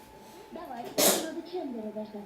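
A baby gives a single sharp sneeze, a short loud burst in the middle, while people talk quietly before and after it.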